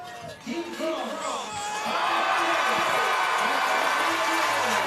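A biathlon stadium crowd in Ostersund, Sweden, roars and cheers during the men's relay, the noise swelling after a brief lull into a loud, sustained wall of shouting and whooping.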